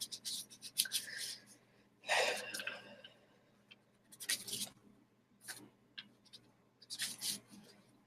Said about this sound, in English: So Leanne, I will go ahead and shuffle the cards, and then I'll see which one pops out